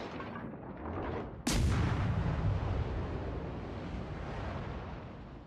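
Rapid gunfire in a shooting video game, a dense burst of heavy booming shots that hits suddenly and rolls on loudly for several seconds, alone without talk.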